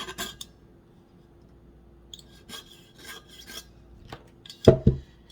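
A tool scrapes and rubs the surface of a tumbler in short, scattered rasping strokes, ending with a couple of louder knocks, close and quiet with no talking.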